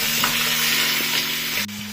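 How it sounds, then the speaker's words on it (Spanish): Steady, loud sizzling and crackling of pork ribs frying in a pan, with a few faint stirring scrapes and a low hum underneath. "Vamos a mover la carnita que se está friendo."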